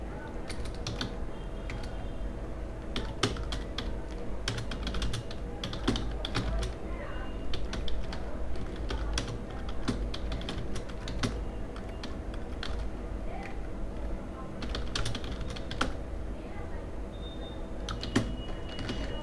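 Steady typing on a computer keyboard in Adobe Illustrator, with continuous close clicking of keys and occasional sharper keystrokes over low background hum.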